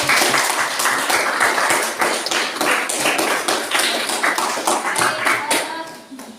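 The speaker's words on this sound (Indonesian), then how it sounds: "Kita beri aplaus dulu untuk kita semua." Classroom applause as students clap together for the groups that just presented their discussion results, a dense, steady patter of many hands that fades out at the end.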